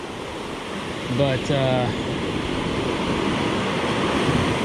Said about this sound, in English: These waves are breaking the shore here pretty hard